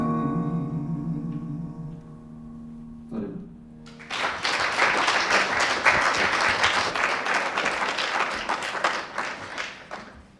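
Applause breaks out from an audience at a formal awards ceremony after a musical performance, dense clapping starting abruptly after a sustained, fading musical tone and continuing strongly to the end.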